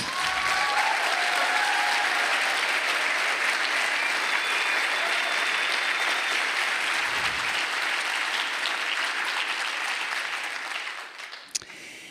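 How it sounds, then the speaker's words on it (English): An audience applauds at the opening of an Ashoka gathering, a steady, full round of many hands clapping in a large room that fades out near the end, followed by a single sharp knock. "maybe we can give them a big round of applause to get started."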